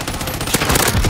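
Rapid automatic gunfire from a video game gunfight rattles in dense, loud, overlapping bursts with no pause, close and sharp throughout.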